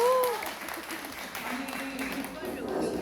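Quiet audience applause at a Korean political gathering honoring a National Assembly member. Soft, continuous clapping runs throughout, with voices talking over it.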